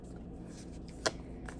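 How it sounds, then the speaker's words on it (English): A deck of cards is shuffled in a quiet ASMR setting, a soft papery riffle with one sharper burst of flutter and a faint second one, close and delicate with no talking. "And this is when I would shuffle the deck."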